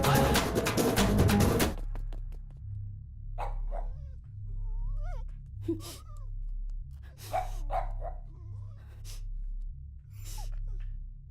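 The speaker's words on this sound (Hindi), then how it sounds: "अब भौंक रहा है।" A dog barks in a few short bursts, with whimpering sounds between them, over a low steady hum.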